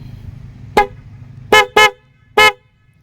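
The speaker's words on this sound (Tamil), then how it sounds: "காது கிழிஞ்சு போயிடும் அந்த மாதிரி ஒரு ஹாரன்" A Bajaj Dominar 400 motorcycle's loud, harsh horn honks four times: one short blast, then two quick ones close together, then a final blast, right up close.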